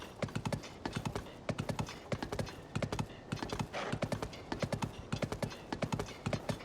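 Horse hooves clip-clopping on the ground in Zelda: Tears of the Kingdom, a loud, close, brisk repeating rhythm of hoofbeats in even clusters running throughout with no talk over it.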